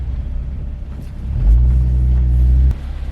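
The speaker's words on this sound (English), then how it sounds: "That shifting that I did on that pull right there, like caught that gear real quick." A Toyota Camry TRD engine rumbles at idle, then surges into a loud, deep acceleration pull for about a second before a quick gear shift cuts it back to a lower drone.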